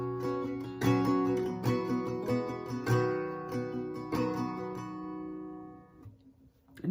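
An acoustic guitar plays the second line of the live version of a song, ringing chords picked and strummed in a steady rhythm that slow and fade toward the end, with no talk.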